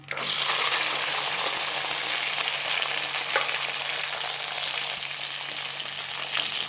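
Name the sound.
garlic frying in a pan for garlic kulambu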